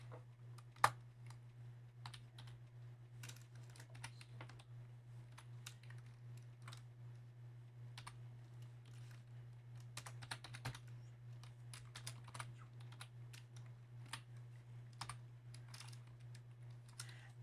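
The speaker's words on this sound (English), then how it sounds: "I'm going to type in my equation exactly as I see it." Soft, quick key presses tap out an equation on a TI-Nspire calculator keypad, faint irregular clicks in small bursts over a steady low electrical hum.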